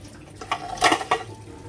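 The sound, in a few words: water being poured off eggs in a pot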